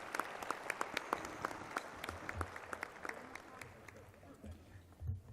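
An audience at a city address in a hall gives a round of applause, with scattered claps and crowd noise at moderate distance, fading out near the end.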